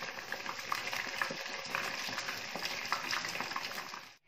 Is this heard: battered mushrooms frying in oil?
yes